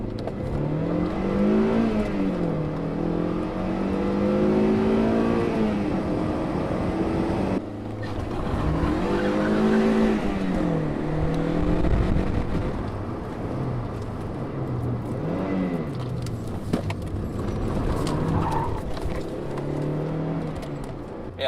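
A nearby Toyota MR2 Spyder on its stock exhaust idles and revs again and again, its pitch climbing and falling with each throttle blip.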